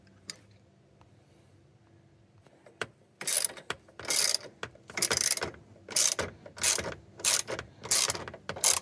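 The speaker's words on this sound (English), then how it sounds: "Now I'm going to use a socket wrench to do the rest." Socket wrench ratcheting screws on an under-seat safe install in a Tesla Cybertruck: after a few faint ticks, a steady run of sharp, close ratchet clicks in short repeated bursts, alone without talk.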